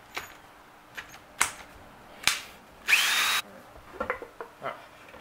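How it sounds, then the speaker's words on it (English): Power tool spinning out side cover bolts on a Polaris Ranger 800 engine, heard as several short close bursts with one longer whir in the middle, separated by brief pauses and light clicks. "taking off all the bolts for this side cover to get access to the oil pump and the crank"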